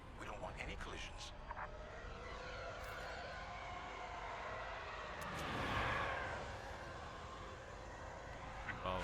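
Starfighters sweep past a capital-ship fleet in Star Wars Squadrons, a steady engine roar that swells to a loud pass midway before easing off, with speech over it throughout.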